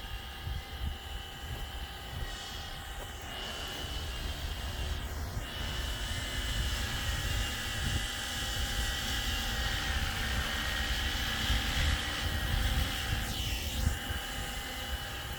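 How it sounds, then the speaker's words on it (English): A 3D printed Airbus H130 model helicopter hovers outdoors, its rotors giving a continuous whirring drone with a tail-rotor whine that swells and fades, heard alone at moderate distance. "sometimes that tail rotor is noisy, and other times I cannot even hear it"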